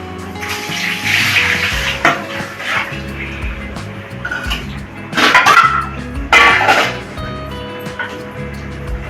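Water splashes and pours steadily for several seconds, with a few louder gushes partway through, close by and with no talking.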